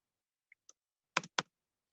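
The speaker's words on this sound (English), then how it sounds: "Let me start typing it over again here." A few sparse clicks followed by two sharper keystroke bursts on a computer keyboard, quiet and close, with no talking.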